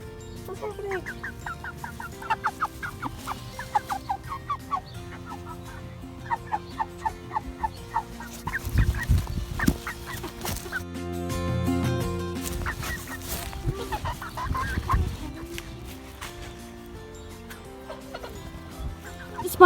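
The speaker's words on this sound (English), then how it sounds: "we're on our way to go see the chickens." Chickens cluck repeatedly among other fowl, the calls coming in bursts over a busy, cluttered background with faint voices at times.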